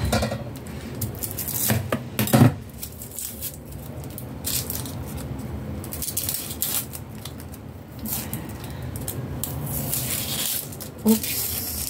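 Onion (sibuyas) is cut on a board for a Korean-style boiled whole chicken, with irregular close knife chops and soft scraping over a steady kitchen background.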